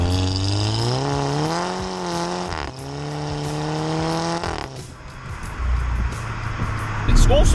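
A Volkswagen Golf MK6 GTI engine, remapped, revs hard through second gear, its rising harmonic whine climbing steadily, dipping briefly at a shift, then climbing again before lifting off. Someone talks over the engine.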